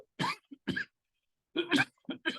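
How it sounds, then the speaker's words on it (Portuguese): Four or five sharp coughs come in two clusters separated by a short pause, close and fairly loud, with nothing else heard. "eu estou com uma tosse aqui"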